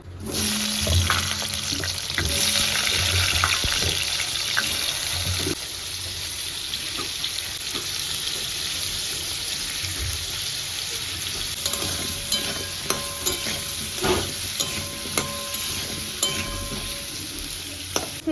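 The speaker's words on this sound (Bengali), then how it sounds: "এবার আমি আলুগুলো ভেজে নেব" Potato pieces fry in hot oil in a pan, a continuous sizzle with scattered crackles and occasional stirring scrapes, close and fairly loud, easing slightly midway.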